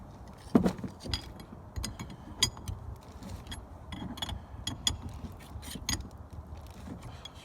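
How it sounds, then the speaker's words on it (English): A wrench tightens a new air line fitting on a Peterbilt 359 truck at a workbench, giving soft metallic clicks and clinks in short, irregular bursts, close by and fairly quiet. "You just simply tighten these guys up."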